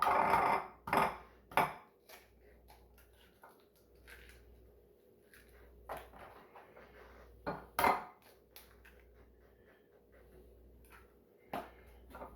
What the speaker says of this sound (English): let's get a couple of fresh eggs cracking